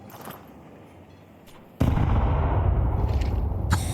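A grenade goes off in a Counter-Strike match: a sudden loud, broadband blast after a quieter stretch, followed by a sustained heavy rumble that lingers to the end.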